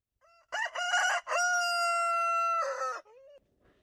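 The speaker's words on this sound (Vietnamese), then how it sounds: "Nửa đêm, tiếng gà gáy canh bà vang lên" Rooster crowing at midnight, one long loud cock-a-doodle-doo near and alone in a quiet night, with a brief trailing call at the end.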